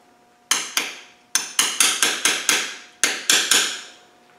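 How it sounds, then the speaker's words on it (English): Hammer striking a chisel against tab washers on a 2.25 engine's camshaft and timing gears, about eleven sharp metallic taps in quick irregular bursts, close and clear with short ringing decays. "We'll finish those off with a chisel,"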